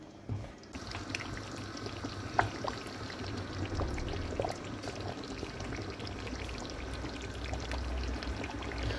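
Water pouring steadily into a cooking pot for boiling pasta, a continuous close splashing stream with no talking.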